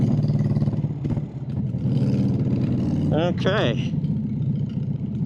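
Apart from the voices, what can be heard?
2000 Harley Davidson Sportster Bobber motorcycle exhaust while riding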